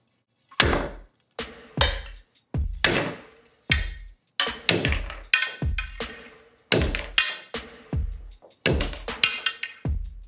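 Billiard balls clacking sharply in a curve trick shot, a dozen or so crisp hard knocks in quick irregular bursts, near and loud against a quiet room, with no talking.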